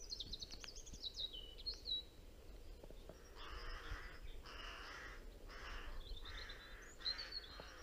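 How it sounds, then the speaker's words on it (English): Crows in a spring woodland give a run of harsh caws, with a few near calls early on and then four or five spaced, rasping bursts later, over quiet background rustle. "And this time the crows are about."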